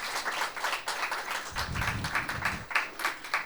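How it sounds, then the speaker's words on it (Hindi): An audience welcomes a panel on Garhwali cinema with steady, moderately loud applause that runs throughout, with a low thumping rumble midway. "मैं ज़ोरदार तालियों के साथ आपसे रिक्वेस्ट करूंगा कि हमारे पैनल में जो लोग उपस्थित हैं उनका स्वागत करें"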